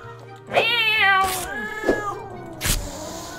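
Several drawn-out, wavering meows, close and fairly loud, with short gaps between them; the cries sound like a voice imitating a cat while playing Jazzpunk.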